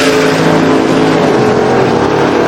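A 1969 Chevy Nova drag car at a drag racing event, its engine roaring very loud and close in a continuous, saturated blast with no breaks.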